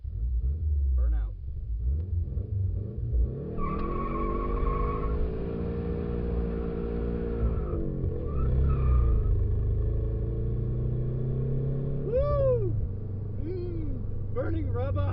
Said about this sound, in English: Burning rubber!